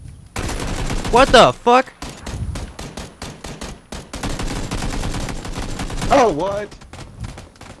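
Rapid gunfire from PUBG on Xbox rattles in dense bursts nearly throughout, close and loud, while a player shouts in surprise over the shooting.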